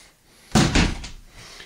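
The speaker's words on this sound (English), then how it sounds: "House type rear entry door." A single close, sharp bang from the rear entry door of a Forest River Quailridge park model tiny house, followed by a short rattle as it settles.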